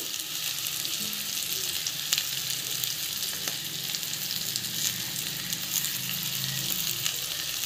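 Potato masala frying in a pan makes a continuous close sizzle, with occasional light stirring scrapes over the steady hiss and no talking.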